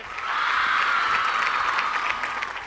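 A studio audience at a Malayalam TV game show claps together in loud, steady applause that holds throughout before tapering slightly at the end.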